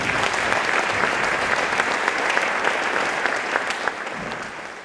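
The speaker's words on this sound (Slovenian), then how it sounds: "aplavz." Sustained audience applause at a music school orchestra concert, a dense, steady wash of clapping from a full hall that continues throughout without any voices.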